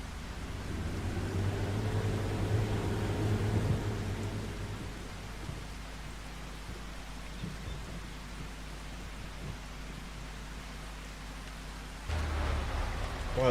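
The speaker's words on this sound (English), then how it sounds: "Oh my god, it's raining." Rain falls in the farming video game Farming Simulator 25 as a steady, even hiss of downpour with a low rumble beneath, holding constant before the sound shifts and swells slightly near the end.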